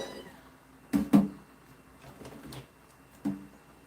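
Young kittens mewing during a bath, a few short, soft cries in a quiet room, two close together and then another a moment later.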